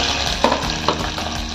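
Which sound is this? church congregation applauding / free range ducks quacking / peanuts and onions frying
peanuts and onions frying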